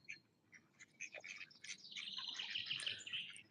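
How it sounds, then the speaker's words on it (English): A small flock of jackdaws calls nearby, short sharp chattering chirps that thicken into a busy overlapping chorus, faint and unaccompanied by talk. "But these are beautiful, these jackdaws."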